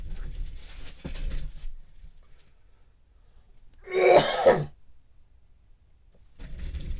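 A single harsh cough with throat clearing erupts in the middle, loud and close, between quieter stretches of background noise.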